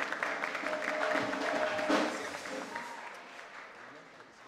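Applause from the audience at a regional oratory contest final in Chiriquí, Panama, with a presenter speaking over clapping that stays fairly strong before fading gradually.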